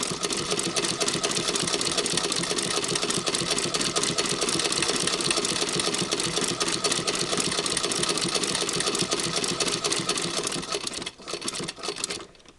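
A 1937 sewing machine stitches fabric through a zigzagger with a steady, fast mechanical whir and rattle that runs close and continuous, then slows and stops near the end.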